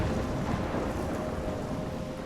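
Thunderstorm in the video game Life is Strange, with steady heavy rain and a low rolling rumble of thunder filling the whole stretch, loud and continuous, with no voices.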